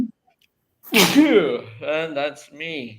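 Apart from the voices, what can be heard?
sneeze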